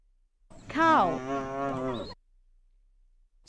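A cow gives a single loud, drawn-out moo, close and alone, with silence before and after.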